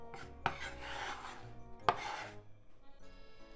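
A kitchen knife chops dried garlic chives on a cutting board, giving two sharp, close thuds a little over a second apart with soft scraping and rustling between them.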